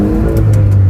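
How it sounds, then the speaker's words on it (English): Brief, loud, close burst of a 10th-generation car engine revving quickly after fresh, correctly gapped spark plugs, the pitch climbing sharply within a second, with no voices. "She revs way faster."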